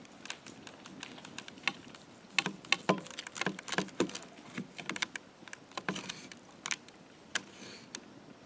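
Knife slicing through a pork roast cooked in a reflector oven, heard as quiet, irregular clicks and light taps close by, alone with no talking.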